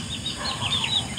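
Chickens cluck and squawk nearby on a farm, a short burst of several overlapping calls over a steady background hum.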